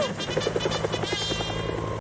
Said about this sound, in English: Helicopters flying around.